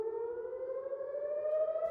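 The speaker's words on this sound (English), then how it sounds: "a siren automatically goes off in settlements near the Gaza Strip" An Israeli air raid siren near the Gaza Strip wails as one steady, sustained tone that rises slightly in pitch. It sounds moderately loud and distant, alone, with no talking.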